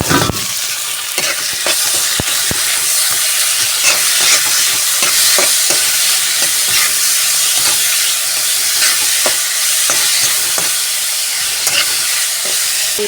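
Tomatoes fry and sizzle in a pan with spinach for a palak palya dish, a steady loud hiss broken by repeated sharp scraping stirs, with no talking.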